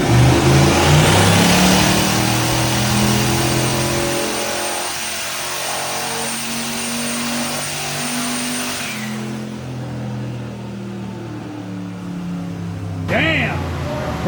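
A turbocharged Cadillac Escalade runs a dyno pull, its engine roaring loud and near as it climbs steadily through the revs. Near the end it tapers off with a brief whoosh.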